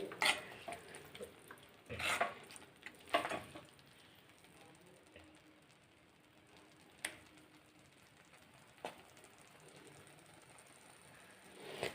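A spoon stirs dhaba-style Rajwadi oro, a mashed eggplant dish finished with fresh green coriander, in a pan. Quiet scraping and a few sharp clinks land near the start, with sparser knocks later over a faint background hiss.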